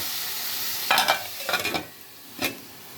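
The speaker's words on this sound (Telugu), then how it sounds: "ఒకసారి కలిపేసి మూత పెట్టేసుకుందాం ఫ్రెండ్స్." An eggplant, potato and tomato curry is stirred in a pot. Three distinct rounds of scraping and clattering rise above a constant low hiss, the last one brief, and no one speaks.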